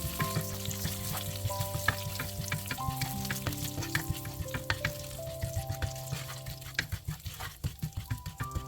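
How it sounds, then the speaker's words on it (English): Cumin seeds crackle and splutter in hot oil in a pan over medium-low heat, a steady close sizzle with dense popping, while soft music plays underneath. "Add 2 teaspoons of cumin seeds into the pan. Allow the seeds to splutter on medium-low heat"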